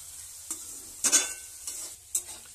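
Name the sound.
food frying with salt in a pan, fried rice recipe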